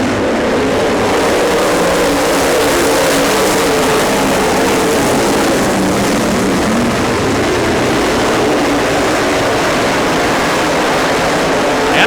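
Late model race cars roar off the start at Plymouth, a loud, sustained engine drone filling the air from a distance and holding steady throughout, with no voices over it.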